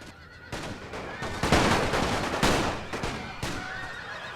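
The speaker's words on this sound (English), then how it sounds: "they need to turn the entire machine gun grouping to put down sufficient fire" Massed machine gun fire from a First World War battle in The Great War strategy game, a dense continuous crackle of bursts that swells and fades over several seconds, with no voices.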